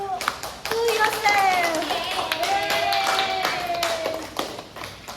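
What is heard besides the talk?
classroom clapping applause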